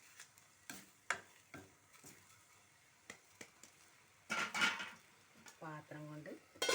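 Cheera thoran, an amaranth leaf stir-fry, is stirred in a pan: quiet, scattered scrapes and light clicks of the utensil, with a soft sizzle and a brief voice near the end.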